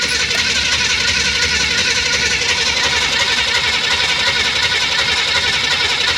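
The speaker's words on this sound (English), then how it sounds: "you should just be able to crank it over" A 1971 Chevrolet Nova SS with a four-speed is cranked over, its starter and engine producing a continuous steady churning drone for several seconds, close and loud, with no words spoken.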